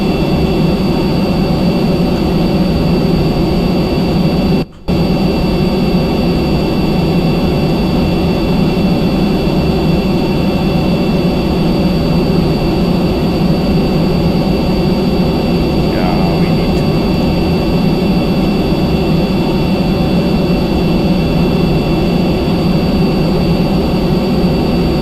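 Simulated B-52 jet engines in Kerbal Space Program roar steadily and loudly for the whole stretch, a dense continuous drone with a high whine on top, broken only by one brief cut near the start.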